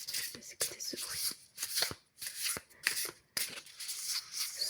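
Large, oversized deck of playing cards being shuffled by hand, a series of crisp riffling bursts separated by short pauses, close and fairly quiet with no talking.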